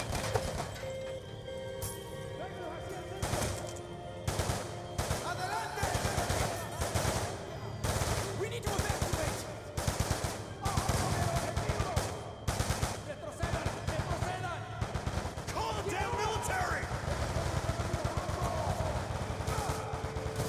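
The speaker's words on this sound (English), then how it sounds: "Return fire! Push through before DeFalco escapes" Gunfire in the Call of Duty Black Ops 2 campaign: repeated bursts of automatic rifle fire and single cracking shots crowd together over a battlefield din, with faint voices mixed in.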